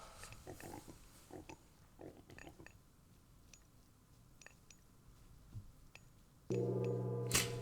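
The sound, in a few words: pigs oinking in video game Age of Mythology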